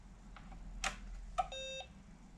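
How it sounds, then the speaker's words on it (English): An Acorn Electron home computer powers on with a quiet electronic beep sequence: a couple of faint clicks, then a short two-tone beep held briefly, in a near-silent room. "power off, back on again, listen to the beep."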